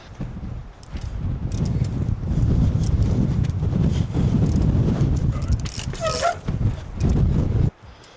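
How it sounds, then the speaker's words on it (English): Strong wind gusts roar across a hilltop during a trials motorbike ride, loud buffeting rumble against the microphone that swells and drops, with a rider's voice partly under it. "I keep complaining how windy it is up top."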